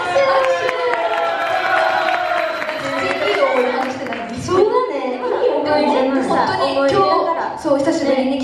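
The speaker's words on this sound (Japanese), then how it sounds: "拍手、拍手。" Audience at a live idol mini-concert in a hall applauding and cheering, a dense steady wash of clapping and crowd noise that swells and dips over several seconds.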